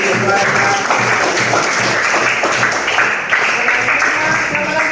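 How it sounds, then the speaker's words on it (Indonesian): A classroom of students gives a student a round of applause: dense, steady clapping from many hands that fills the whole stretch at close range. "Kita kasih aplaus untuk Novi."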